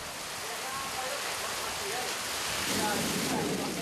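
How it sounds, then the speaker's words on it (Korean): Heavy rain pours steadily at a snake farm in Vietnam, a dense continuous hiss that swells louder toward the end as the downpour intensifies. "갑자기 굵어지는 빗줄기"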